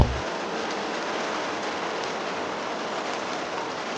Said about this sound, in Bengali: এই ঝড় বৃষ্টির ভিতর কি মনে করে আসলে